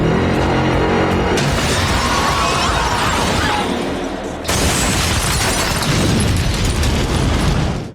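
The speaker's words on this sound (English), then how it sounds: "and Elena volunteer for the suicide mission, driving an SUV into the building and detonating the gas." A building blows up in a gas explosion set off with an SUV in a TV show scene: a sustained roaring blast with crackling debris, a sudden second surge midway, then a heavy rumble that cuts off abruptly.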